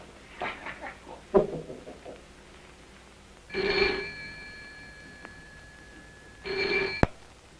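A telephone rings in two separate bursts of trilling, with a soft thump and rustling before the first ring.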